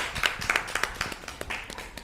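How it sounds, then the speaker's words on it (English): A small audience claps after a stage reading, a modest scattering of distinct hand claps in a quick uneven rhythm, fairly close and not very loud. "Give them a big round of applause, everybody"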